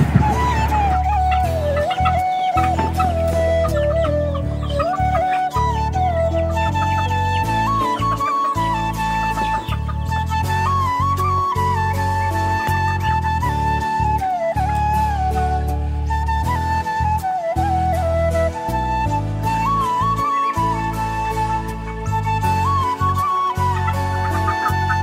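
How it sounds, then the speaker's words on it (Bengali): Ducks and chickens feed at a house yard on rice mixed with paddy bran, keeping up a busy, continuous clucking and calling at close range, with one bird's voice rising and falling above the flock and no talking. "এই তো সকল হাঁস মুরগি খাচ্ছে"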